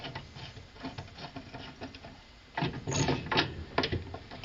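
A Kenmore washing machine agitator is turned by hand, giving soft clicking and rattling patter from its mechanism, then louder clunks and scrapes as the parts engage, close and fairly quiet.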